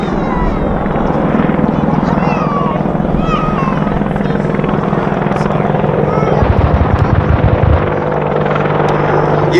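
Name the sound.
AgustaWestland Apache attack helicopter flying at air festival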